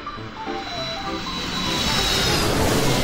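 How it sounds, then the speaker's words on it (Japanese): A toy vehicle puzzle plays an airplane sound, a loud jet-engine whoosh that swells steadily and rises toward the end, heard alone without speech. "飛行機。"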